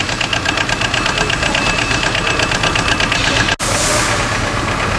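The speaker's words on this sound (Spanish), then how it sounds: "El taca-taca del Kubota." Kubota engine idling with its characteristic rhythmic mechanical knock, a steady loud clatter running throughout, with a brief dropout near the end.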